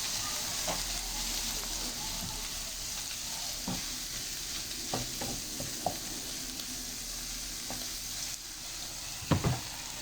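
Coriander sizzles steadily in a frying pan while cooking for vegan lasagna, a continuous hiss broken by a few sharp utensil clinks and scrapes, with a louder knock near the end.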